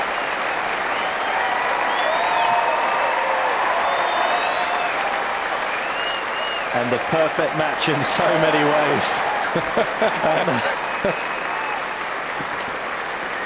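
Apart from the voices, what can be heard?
Centre Court crowd applauding Roddick at Wimbledon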